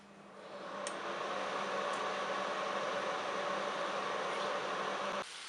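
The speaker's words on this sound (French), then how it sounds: "Je rappuie sur Start pour finaliser la cuisson." Cookeo multicooker running to finish cooking potatoes, a steady soft hum and hiss with faint whirring that starts up after a click, continues evenly, then cuts off near the end.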